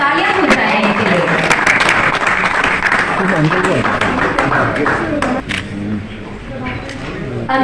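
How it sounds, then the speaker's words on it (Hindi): Sustained audience applause fills a national honour award ceremony, dense steady clapping from a large crowd, loud and continuous with a slight dip near the end. "तालियां हो जाएं इनके लिए।"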